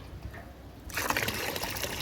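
Liquid plant fertilizer of buttermilk and other ingredients mixed in water is poured out, starting abruptly after a quiet moment and continuing as a steady, close splashing stream to the end.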